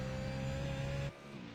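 A sports car racing at Sebring roars at a steady high pitch, then drops away suddenly as the car passes by, leaving a softer fading drone.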